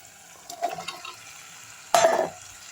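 Cut moringa drumstick pieces go into a pan of kurma base for sautéing, making two brief, soft splashing sizzles about a second and a half apart against a quiet background.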